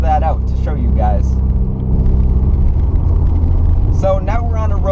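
A Porsche 944 without power steering driving on a winding, bumpy road, with a steady low engine and road rumble from inside the cabin while someone talks over it.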